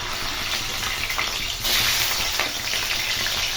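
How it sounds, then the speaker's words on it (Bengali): Catla fish frying in hot mustard oil: a steady, close hiss of sizzling that swells louder about halfway through and stays dense to the end, with no voices. "তেল গরম হয়ে গেছে এবং কাতলা মাছটা তেলে এড করে দেব"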